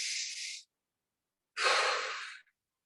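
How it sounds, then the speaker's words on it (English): Two close, breathy exhalation-like rushes of air, a short one followed after a pause by a longer, louder one, clear against silence during a stretching workout. "Breathe in, breathe out."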